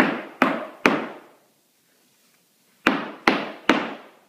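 Irish step dance shuffles tapped with the tip of the toe on a hard floor: three sharp, ringing taps, a pause of over a second, then three more in the same quick rhythm, close and loud with no talking.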